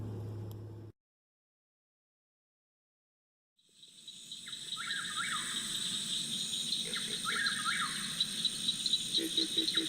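Outdoor bird calls in the wild, with short repeated chirps over a steady, high insect or cricket drone after a brief quiet gap, all at moderate distance.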